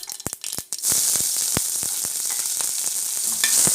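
After a few light clicks, ginger hits hot oil with popped mustard seeds and bursts into a loud, steady sizzle that keeps crackling close by.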